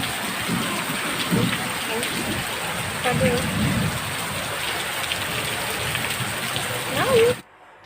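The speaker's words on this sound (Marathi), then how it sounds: "मस्तपैकी पाऊस पडतोय" Steady heavy monsoon rain hisses throughout in a village, a dense broadband wash with a few brief louder swells, ending abruptly near the close.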